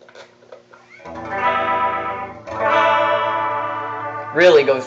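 A Bullet Strat electric guitar played through a Fender M-80 amp, with effects such as distortion and chorus, gives two sustained strummed chords followed by a short bright pick slide, close and loud.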